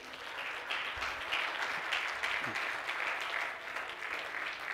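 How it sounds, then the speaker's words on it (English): A church congregation claps hands in praise, a steady, sustained wash of applause from many people filling the room at moderate volume, with faint voices underneath. "Let's give the Lord a hand clap of praise."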